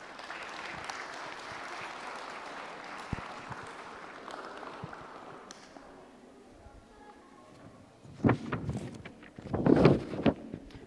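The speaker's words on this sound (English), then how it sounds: "let's give a really big clap for the parents and the students" A crowd at a middle school science fair claps in a steady wash, with louder bursts of clapping and cheering near the end.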